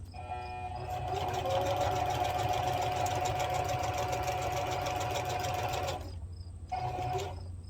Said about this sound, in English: I got it set on zigzag and a length of 4